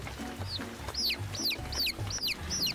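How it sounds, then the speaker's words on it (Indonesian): Chicks cheep by a drain in about six clear, high, descending peeps at an even pace, over a low, soft clucking in the background. "anak-anak ayam itu di tepi longkang seolah sedang meminta pertolongan"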